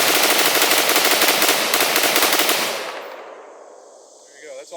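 A rifle fitted with a Fostech Echo trigger dumps a 30-round magazine in loud, rapid, continuous fire for nearly three seconds, then the shots stop and the report fades into a quieter tail with a faint sound at the end.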